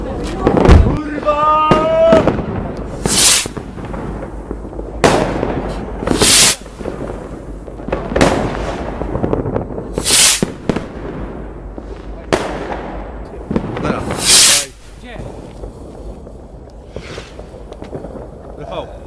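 New Year's Eve fireworks and firecrackers bursting outdoors, with loud sharp bangs and crackling pops going off every couple of seconds, a rising whistle early on, and people talking between the blasts.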